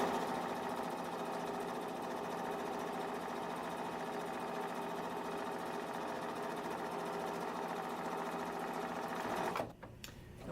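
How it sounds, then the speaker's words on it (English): A sewing machine running a regular straight stitch down a fabric seam allowance, a steady close mechanical whirr and rapid needle chatter that stops abruptly near the end. "I'm just going to stitch all the way down the seam allowance."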